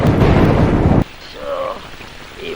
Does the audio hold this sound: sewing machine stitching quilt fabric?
no